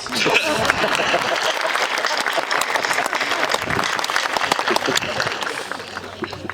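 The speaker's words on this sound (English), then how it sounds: "Hold for applause." Applause from a crowd at a Kingman High School class of 2023 graduation, a lively, continuous clapping with a few voices and chuckles mixed in.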